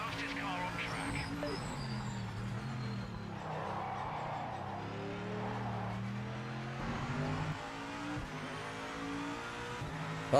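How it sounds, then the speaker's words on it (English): Racing cars squeal their tyres through a corner in Project Motor Racing, a high wavering screech over the engine's revving drone, with a person talking throughout. "you hear the tyres grappling for grip"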